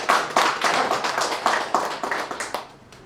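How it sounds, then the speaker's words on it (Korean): A small group claps at a data center opening ceremony in Pohang, a thin, uneven burst of separate hand claps with audible gaps, tapering off over about three seconds. "큰 박수 부탁드리겠습니다"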